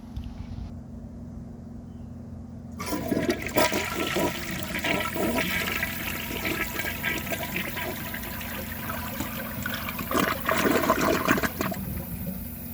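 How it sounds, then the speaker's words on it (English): A 1987 Kilgore Aladdin toilet with a standard flapper flushes. A click from the handle sets off a loud, close rush of water that swirls and gurgles for about ten seconds before easing into a refill trickle, with no talk. "I'm going to show you guys a flush"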